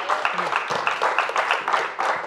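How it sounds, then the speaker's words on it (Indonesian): An audience at a stand-up comedy roast applauds a performer named Andro, with a short burst of scattered clapping in a room. "Tepuk tangan sekali lagi buat Andro dong."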